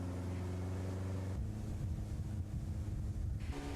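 Steady engine drone of boats and speedboats cruising on the Taedong River, heard alone with wind buffeting the microphone and a brief shift in the motor tone partway through.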